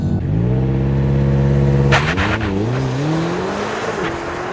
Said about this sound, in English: let's now do a launch control of the BMW XM label